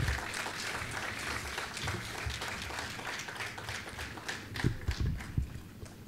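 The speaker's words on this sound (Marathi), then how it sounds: "थंडी आहे म्हणून टाळ्या कमी वाजवायला पाहिजे असं काही नाही आहे." Audience applause at a book launch, a steady crowd clapping throughout at moderate level, with a few louder claps and heavier patters near the end.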